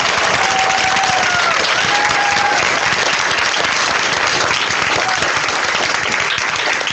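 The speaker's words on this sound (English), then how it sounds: "join me in giving a warm round of applause to Pro Football Hall of Famer, Mr. Derrick Brooks." A crowd applauds Pro Football Hall of Famer Derrick Brooks with sustained, dense clapping that holds at an even loud level throughout, with a few faint voices mixed in.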